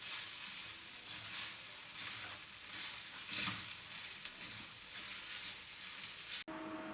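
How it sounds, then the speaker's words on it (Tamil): Sabudana kichadi mixture is stirred in a pan, a continuous crackly sizzle with scraping strokes that swell and ease in rhythm, close up, before cutting off sharply near the end. "இப்போ இதை நல்லா கலந்துக்கோங்க"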